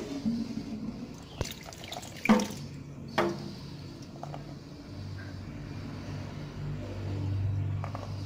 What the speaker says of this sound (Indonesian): Nah, kemudian ini airnya dibuang ya.